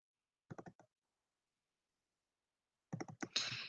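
Computer keyboard clicks as the Shift key is pressed: a short quick cluster of sharp taps, a long silence, then another burst of clicks running into a brighter rustle.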